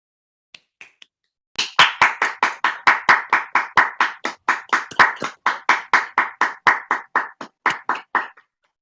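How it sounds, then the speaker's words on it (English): Clapping from an online audience at the close of a session, a brisk run of sharp, evenly spaced hand claps that starts after a couple of faint taps and carries on for several seconds. "to please give an applause for Geraldine and Carrie today."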